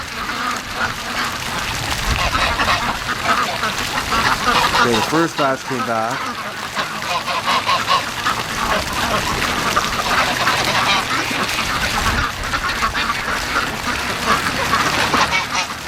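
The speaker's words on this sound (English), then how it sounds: "Ducks are going back out again." Free-range ducks quack and honk loudly in a noisy outdoor flock, a dense continuous clamor with wind buffeting, while someone speaks over it.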